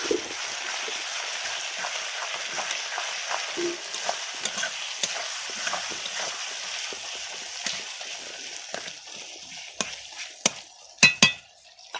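Chicken coated with turmeric powder is stirred in a hot pan, giving a steady sizzle with continuous scraping and a few sharper clinks of the utensil toward the end, with no talking.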